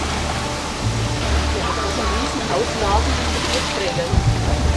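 Sailboat running under genoa alone in a broad reach to nearly downwind breeze, making six to seven knots; steady loud rush of wind and water with wind buffeting the microphone throughout.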